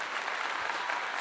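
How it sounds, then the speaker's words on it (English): Applause breaks out after a 47-yard field goal at a football game, a steady wash of many hands clapping at moderate level with no voices over it. "Let's give him a clap for that"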